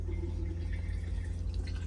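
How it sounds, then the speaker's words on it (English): Water runs into the toilet bowl of a small camper RV, a close, continuous trickling and dripping of filling liquid with a low steady rumble beneath. "To use the toilet, you're going to fill it up with some water first."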